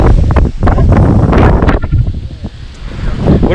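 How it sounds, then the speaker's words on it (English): Strong wind buffets the microphone outdoors on a trip in Iowa, a loud continuous rumbling roar with gusty swells and no talking during it. "It's really windy, isn't it?"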